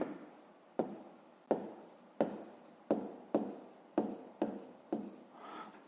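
Pen or chalk writing out a fifth-grade maths solution, about eight sharp strokes at a steady rhythm, each tapping down and trailing off in a scratchy scrape, close and quiet with no talk.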